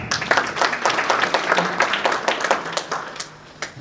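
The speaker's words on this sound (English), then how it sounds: "Let's give them a clap." Attendees at a technology and innovation conference clap to welcome visitors from South Africa, a room of hands clapping loudly and closely in an uneven patter that tapers off near the end.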